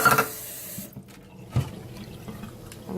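Water is poured from a measuring cup into a pot for lamb stew in a home kitchen, with a short splashing pour at the start followed by a few softer trickles and clinks.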